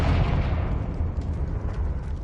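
Confringo fire spell explosion in the video game Hogwarts Legacy: a loud, sustained deep rumbling blast with heavy low roar and crackling debris texture throughout, no voices over it.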